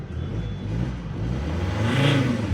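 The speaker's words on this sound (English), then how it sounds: "I love the noise of the D5 engine." A Volvo V70 D5 diesel engine runs steadily with a low hum, rising slightly in revs toward the end, close by and without talk.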